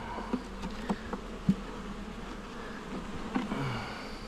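Wasps and honeybees buzz faintly around a weak nuc hive outdoors, a low steady drone with occasional louder passes as insects fly close by.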